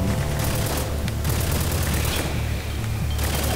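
Dense gunfire and heavy booming explosions from the video game Spec Ops The Line, a loud, continuous barrage filling the whole stretch with no pauses.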